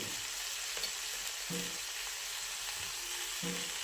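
Cluster bean pods frying in a pan, with a steady hiss of hot oil and a few soft scraping stirs at regular intervals, no voices.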